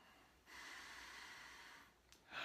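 A single slow, deep breath drawn in by one person preparing to meditate, soft and close, a quiet airy inhale swelling after half a second, then a brief pause and the start of the exhale at the end.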